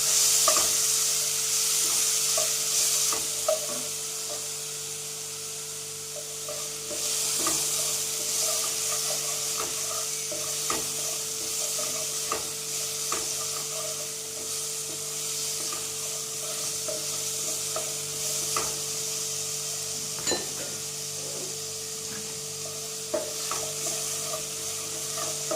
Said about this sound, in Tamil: பைனாப்பிள் வந்து இதே இதில் நம்ம போட்டு லைட்டாக ரோஸ்ட் பண்ணிடுறோம்.